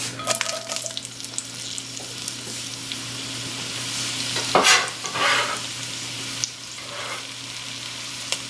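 Chopped onion cooks in a little olive oil in a heavy cast iron pot for chipotle chile, a soft steady sizzle with occasional stirring scrapes, a louder burst of stirring midway, close and without talk.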